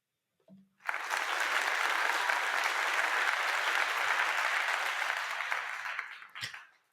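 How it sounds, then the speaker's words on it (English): A studio audience gives guest Nate Wylie a burst of steady, full applause that holds evenly for about five seconds and then fades, with a brief voice just before and a short sound near the end. "Let's go ahead and give him a round of applause, please."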